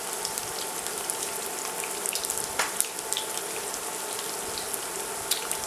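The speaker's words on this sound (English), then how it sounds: "we're going to fry them on both sides until they're nice dark" Eggplant slices for Imam Bayildi sizzle in hot oil in a pan, a steady close hiss and crackle with scattered pops running throughout.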